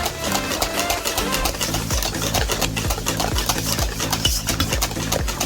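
Chocolate cake batter for a mi-cuit being stirred in a bowl, a steady scraping and sloshing with a regular beat of strokes, close and fairly loud, with no talk.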